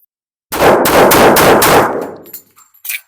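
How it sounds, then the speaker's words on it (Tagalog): Five rapid pistol shots fired in quick succession at a zeroing session, loud and close, blurring into one sharp burst that rings out and decays, followed by faint clinks. "testing natin siya ng rapid fire. 5 shots firing."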